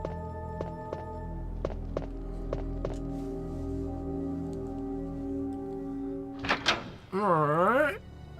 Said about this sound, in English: I don't know why I felt the need to add the sound effect of a door opening